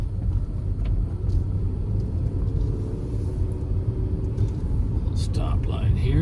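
A 2009 Toyota Corolla XRS with a five-speed manual drives along, a steady low engine and road rumble heard from inside the cabin, with someone talking over it.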